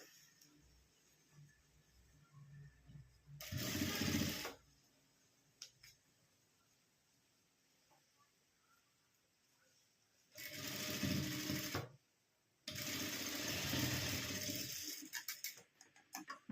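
Sewing machine stitching close along both edges of a square of fabric, heard as three separate bursts of steady whirring with quiet gaps between them.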